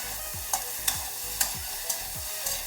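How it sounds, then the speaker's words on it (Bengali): Bitter gourd and potatoes frying with small fish in a pan, a constant hissing sizzle punctuated by about five regular stirring scrapes, near and moderately loud. "এগুলোর সঙ্গে ভালো করে মিলিয়ে একটু ভেজে নেব।"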